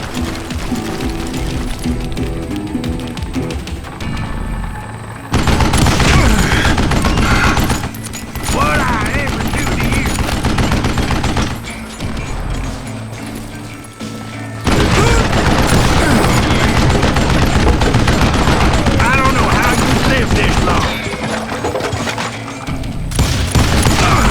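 Gunfire in the Western shooter Call of Juarez Gunslinger: loud, dense volleys of shots and clattering mechanical noise come in long waves, with short quieter gaps between them.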